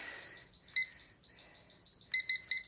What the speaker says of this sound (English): Bam, the timer's going.